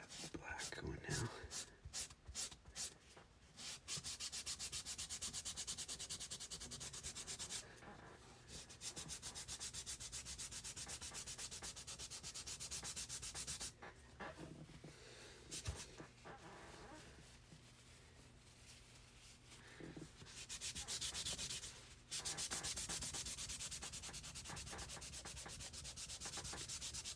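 Black oil pastel rubbed steadily onto paper, a close, continuous scratchy scraping with brief pauses and changes in stroke pressure, and faint voice sounds in places.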